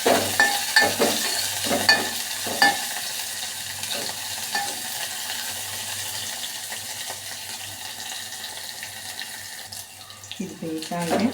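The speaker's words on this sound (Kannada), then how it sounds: "ನೆಕ್ಸ್ಟ್ ಕರಿಬೇವು ಹಾಕ್ತಾ ಇದ್ದೀನಿ" Curry leaves sizzle and crackle in hot oil with onion for a South Indian rasam tempering, steady close frying hiss with a few sharp stirring clatters of a spoon against the pan.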